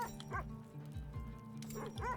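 Sled dogs at feeding time in the video game The Red Lantern bark in several sharp, close bursts mixed with yips and a whimper, loud and clear over a low background.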